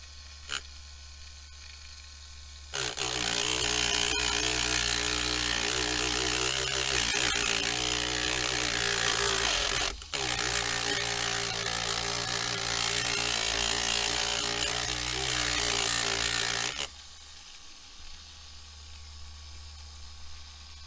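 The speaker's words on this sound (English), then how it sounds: "So we should be able to easily grind that down with our moto tool." Rotary moto tool grinding down a rivet on a Lionel postwar 628 Northern Pacific locomotive, a loud continuous high-pitched whine lasting about fourteen seconds with a brief dip midway, close up and alone.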